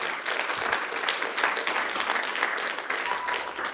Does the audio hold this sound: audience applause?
yes